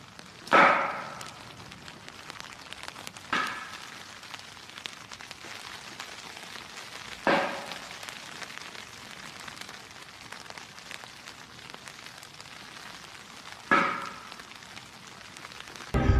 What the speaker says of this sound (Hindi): जंगल में बारिश हो रही थी